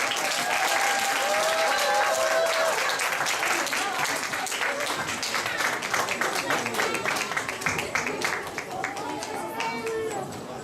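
Applause from a congregation at a church dedication service for the infant department, steady clapping filling the whole stretch with crowd murmur and voices talking over it.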